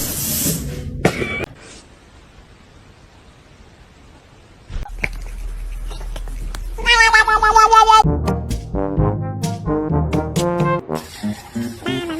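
A house cat meows repeatedly, loud and close, in clear tonal cries in the second half after a quieter stretch of faint room noise and a few sharp knocks at the start.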